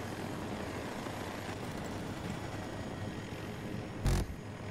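An attack helicopter in Battlefield 2042 gives off a continuous rumbling rotor and engine drone, steady and fairly close, with a brief loud thud near the end.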